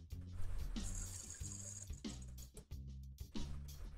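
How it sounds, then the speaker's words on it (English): Water pours into a pan of risotto on the stove, a quiet running splash with gurgling and brief interruptions as the stream starts and stops. "Now we're gonna add more water."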